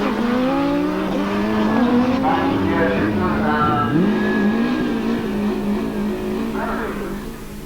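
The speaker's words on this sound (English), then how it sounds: "The result was spectacular, drag racing at its best." Street bikes drag racing at a 1987 event roar through hard acceleration, a loud, continuous engine howl that climbs and shifts in pitch for several seconds before easing slightly at the end.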